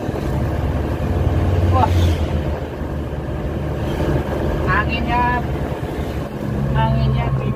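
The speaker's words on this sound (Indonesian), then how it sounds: "saya tancap gas dulu ya, moga-moga ngelos nih" Mitsubishi L300 pickup pulling hard at full throttle on an empty road at night, a steady loud engine drone with wind rush and brief tonal whines, a voice exclaiming once over it.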